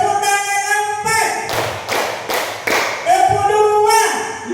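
A group in a training session claps hands together in a counting game, several sharp collective claps landing in short bursts between a voice calling out numbers, close and fairly loud.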